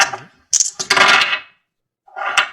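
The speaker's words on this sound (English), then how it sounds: "Go ahead and please roll me a percentage die." Percentile dice tumbling across a table during a tabletop role-playing game, a few quick rattling clatters in two bursts separated by a short pause, close and fairly loud.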